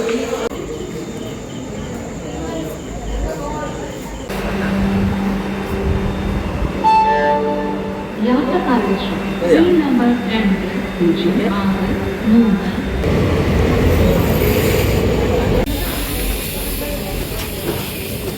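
A train rumbles and clanks nearby at Bangalore Central railway station with a sustained horn-like tone, steady mechanical noise throughout, and a voice speaks briefly.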